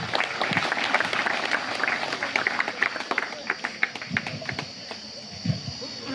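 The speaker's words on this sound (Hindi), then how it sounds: "ताली भी बजाया बहुत जोर से तुम लोगों ने" Students at a school summer camp applaud in a steady burst of clapping, a dense rattle of many hands that thins into scattered claps, with voices faint in the background.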